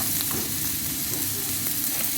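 Chopped onions frying in oil in a frying pan make a steady, close sizzle that runs without a break, with no voices.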